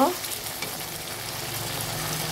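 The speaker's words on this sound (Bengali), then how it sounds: "কড়াইয়ের মধ্যে মাংসটা ভালো করে কষিয়ে" Mutton for a Bengali aloo mutton curry is stir-fried in a kadai, giving a continuous close sizzle with soft scraping and stirring sounds.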